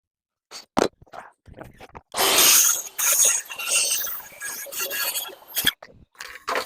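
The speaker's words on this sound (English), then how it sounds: "Super handy having this track saw." Track saw ripping through a wooden filler piece for built-in IKEA units, a loud sustained cut of several seconds after a few short bursts of handling noise.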